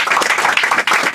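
Brief burst of audience applause at a live comedy show, loud, close, dense clapping from many hands with no voices.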